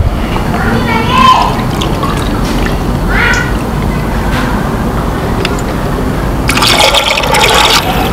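EM4+ bacterial liquid pours into the water of a gutter aquaponics setup, a continuous wet gurgle over steady background noise, with a brighter splashing burst near the end.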